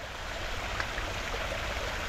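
Cold natural stream water in Solang Valley near Manali, on the trek to Anjani Mahadev, rushes steadily while something is washed in it, a continuous close, full hiss with no clear breaks or voices.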